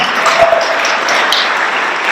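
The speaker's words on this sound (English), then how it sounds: "Give you a big round of applause." Audience applause at a school silver jubilee celebration, a dense steady wash of many hands clapping throughout, fairly loud and without talk on top.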